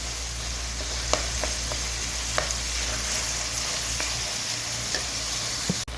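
Onions frying in cooking oil in a karahi, browning toward golden for a chicken tikka gravy, with a constant close sizzle and a few sharp stirring taps of a spoon against the pan.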